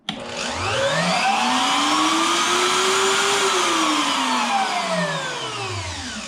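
A Kobalt router on a benchtop router table starts up, its motor whining upward in pitch as it spins to speed, then holding a loud, steady high-speed whine before easing slightly toward the end.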